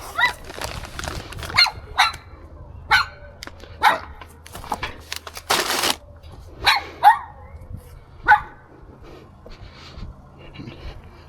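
A dog barks repeatedly at a house gate in Ballycolman, County Tyrone, sharp loud barks at irregular intervals over several seconds, with a person talking briefly between them.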